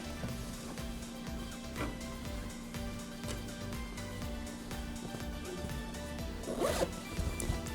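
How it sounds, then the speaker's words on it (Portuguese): A zipper is pulled open along a sewn tricoline fabric organizer pouch, giving a steady run of close, rasping zip strokes for several seconds with a quick louder pull near the end. "com cuidado, abre o zíper"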